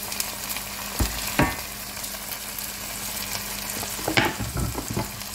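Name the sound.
wok vegetables and sliced peppers added to frying pan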